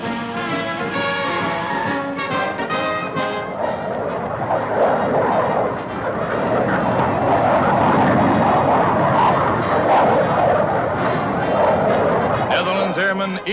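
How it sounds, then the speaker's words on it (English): Republic F-84F Thunderstreak jets flying with Dutch markings in 1955, a steady loud roaring drone of jet engines that swells and holds for several seconds, with a newsreel narrator's voice talking over it. "And then the planes take to the air for the first time flying with Dutch insignia."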